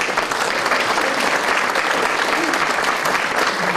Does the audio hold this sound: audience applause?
yes